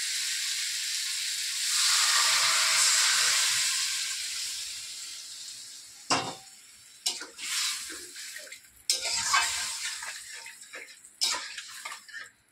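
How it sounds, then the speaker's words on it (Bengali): Water poured into spice paste frying in a pan for a fish and greens dish bursts into a loud hiss that fades, followed by sharp sputtering crackles and bursts of sizzling. "এবার এর মধ্যে জল দিয়ে দেবো।"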